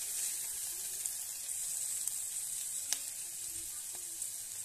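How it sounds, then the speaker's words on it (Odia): Chopped onions fry in a pan for mushroom curry, giving a soft, steady sizzle with faint occasional ticks and pops from the oil, heard alone without voices. "ପିଆଜର କଞ୍ଚା ବାସ୍ନା ଗଲା ଯାଇ ଭାଜିବା"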